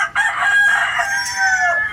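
A rooster crows loudly and close by in one long, drawn-out call lasting about two seconds, from a flock of backyard chickens kept outdoors as a sudden heavy fog rolls in.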